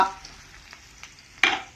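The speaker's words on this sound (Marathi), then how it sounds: "आता सुक्याचा मसाला तळायचा चाललंय" Dry masala for poultry chicken sizzles briefly in a hot pan, with a few soft stirring scrapes and one sharper burst of frying near the end.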